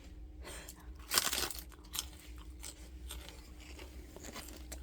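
A dog chews crunchy food outdoors, with soft, irregular crunching and biting sounds close by, faint overall, with one louder crunch early.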